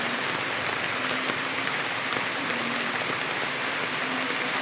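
Heavy rain pours down in a dense, constant hiss of drops striking surfaces, loud and close, with no let-up and no voices.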